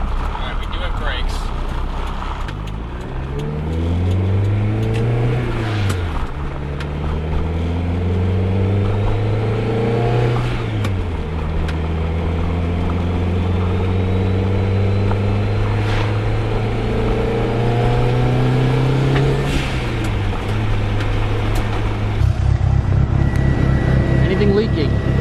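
A first-generation DSM car fitted with a big turbo pulls away and accelerates through several gears, each rising engine pull ending in a shift, loud and close from inside the cabin, with occasional talk over it.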